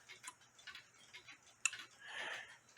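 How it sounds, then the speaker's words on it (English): Nisshindo 100-day anniversary torsion clock, plate 1469E, ticking as it beats, a few light, evenly spaced clicks up close with no talk. "So it's clicking about 180 degrees away from each other"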